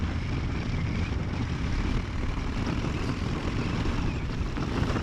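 Steady, loud wind rush and engine drone from a 2015 Yamaha Star Raider 1900 Bullet Cowl cruiser motorcycle heard from the rider's helmet at speed, a constant broadband roar with no pauses and no speech.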